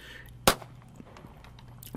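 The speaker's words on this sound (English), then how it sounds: "And there was our first gunshot." A single sharp gunshot cracks once, loud and brief, picked up by a gunshot detection system, then quiet background follows.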